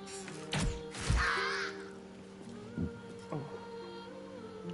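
Bird cawing in Baldur's Gate 3, a few harsh crow-like caws up close, one drawn out, over a quiet game background.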